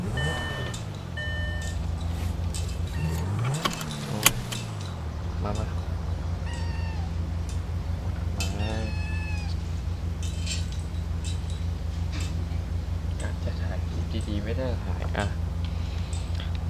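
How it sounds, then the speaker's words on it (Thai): A few short cat meows come and go over a steady background hum, while a person talks quietly throughout. "แล้วก็อาจจะได้ยินเสียงแมวร้องบ้าง"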